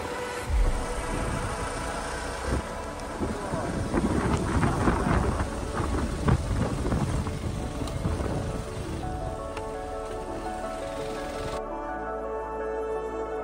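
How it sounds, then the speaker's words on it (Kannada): Heavy monsoon rain on a muddy hill trail at Gavi Betta near Sakleshpura forms a steady, dense roar throughout, with low rumbling that could be thunder and no talking. "ಆಲ್ರೆಡಿ ತುಂಬ ಜೋರಾಗಿ ಮಳೆ ಬಂದಿದೆ"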